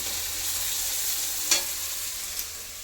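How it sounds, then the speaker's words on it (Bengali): Onions fry in a pan with a constant bright sizzle, and a couple of sharp clicks of stirring or utensil contact stand out over the hiss. "এখানে পেঁয়াজ ভাজা হচ্ছে"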